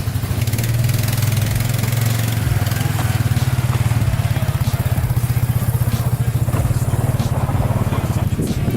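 The engine of a Yamaha Tri-Z or Arctic Cat 250 4x4 ATV runs close by in a yard with a steady, throbbing low rumble and a fast pulse, loud and continuous with no pauses.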